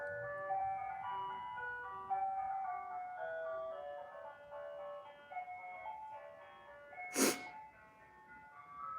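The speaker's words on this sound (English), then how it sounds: "Y'all hear the ice cream truck?" An ice cream truck's chiming melody plays steadily at moderate distance as it drives by, with a brief sharp noise burst near the end.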